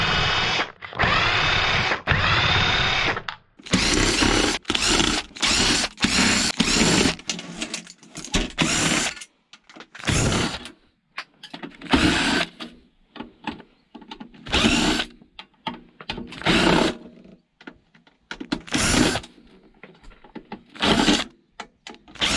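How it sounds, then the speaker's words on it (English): A handheld power drill undoes screws while scrap is taken apart, in repeated short bursts of whirring that start and stop with brief pauses between them. "let's just undo all the screws as usual"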